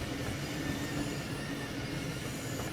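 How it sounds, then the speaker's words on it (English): An ICE long-distance train moves through the Frankfurt area in Train Sim World 6, giving a continuous loud rail rumble with faint wheel squeal and no talk. "This is an ICE set, moving through the Frankfurt area, representing the long-distance side of the station's traffic."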